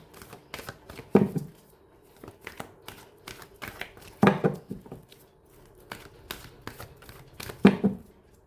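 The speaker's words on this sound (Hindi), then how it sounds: "सबसे पहले मैं भगवान जी का एक कार्ड निकालती हूँ" Tarot cards shuffled and drawn by hand: quick papery riffles and flicks with a few louder slaps of the deck, close and alone with no voice.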